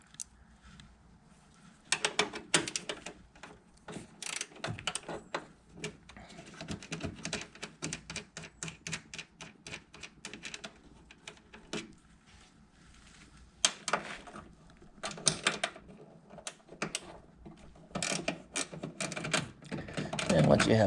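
A 10 mm bolt on a Miata tail light is undone with a ratchet, giving rapid bursts of close mechanical clicking that pause and resume several times while someone talks.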